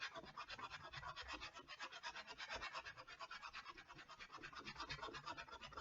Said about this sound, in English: Just sand through the glue layer.